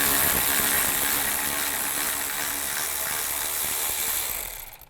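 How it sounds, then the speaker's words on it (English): Ratchet wrench with a 10mm socket spinning out bolts on a 2005-15 Nissan Xterra during alternator replacement, a dense continuous clicking whir close up that trails off at the end, no voices. "Take these 2 bolts out right here, the 10mm. Use a 10mm socket."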